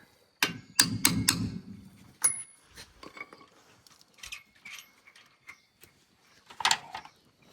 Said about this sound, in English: if it won't move, get a hammer